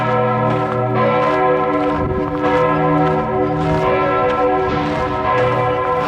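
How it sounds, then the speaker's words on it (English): Bells of Lund Cathedral in Lund ringing, loud, sustained overlapping peals with rich ringing tones and repeated strikes, heard alone without talk. "You listen to the bells of the Lund Cathedral."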